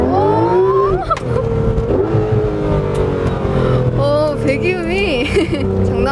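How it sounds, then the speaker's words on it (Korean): A Porsche GT3 RS exhaust roars loudly while driving, its engine note rising and falling through revs and gear changes, with people talking inside the car over the steady engine drone. "배기음이 장난 아니에요"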